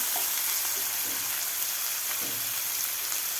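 Chopped tomato frying in a pan for sweet corn poha, giving a steady, even sizzle throughout with a few soft stirring scrapes and no voices.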